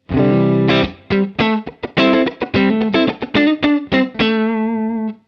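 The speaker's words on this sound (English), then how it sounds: "So here's a clean sound, the Matchless HC30." An electric guitar plays a clean tone through a Matchless HC30 amp emulation on a digital overdrive unit: a loud run of sharply picked notes and short chords, some ringing out, with no talking.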